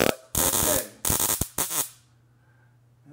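Electric sparks from a voltage test on a Honeywell electronic air cleaner sound as sharp, loud crackling bursts, three to four in quick succession over a low electrical hum, then silence.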